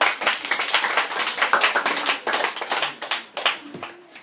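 An audience at a high school debate claps in a round of applause, a dense, lively patter of many hands that stays close and loud and then thins toward the end.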